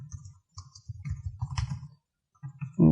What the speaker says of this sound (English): I would like to type my email itself for some time